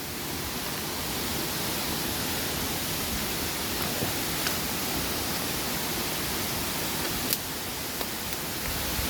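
Water rushes at a forest waterfall where a recent landslide has occurred, a steady broadband roar without break, close and loud, with a few faint clicks over it.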